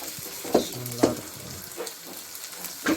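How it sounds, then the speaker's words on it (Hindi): Carrots, corn kernels and peas fry in a pan with a continuous soft sizzle, broken by a few distinct scraping stirs of a spoon, close and moderately quiet. "ये गाजर, मक्की के दाने और मटर है। इसको अब थोड़ी देर भून लेंगे"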